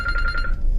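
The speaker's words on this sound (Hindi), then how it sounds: "आप जो फोन की घंटी सुन रहे हैं, मेरी मैडम का फोन है।" Mobile phone ringing at night in a residential lane during a lockdown, a steady electronic ring tone pulsing briefly and fairly close over low background noise.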